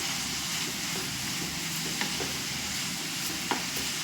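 Cabbage being stirred into pasta in a hot pan, a steady soft sizzle with scraping stir strokes and a couple of light clinks, close and continuous with no voices.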